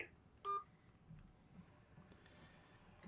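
A single short telephone keypad DTMF tone sounds as a caller presses a key, clear and brief, over a faint background murmur.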